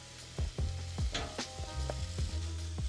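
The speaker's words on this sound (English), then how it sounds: "So now I will add the beef on the right side of the pan." Beef sizzling as it fries on one side of a pan beside onions at a desert camp, a steady loud hiss broken by repeated scraping and stirring clatters, with no talking.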